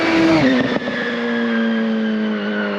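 A restomod rear-wheel-drive Mini from Z Cars, powered by a Hayabusa engine, blasts past close by. Its loud engine note drops in pitch as it passes, then trails off into a sustained fading drone.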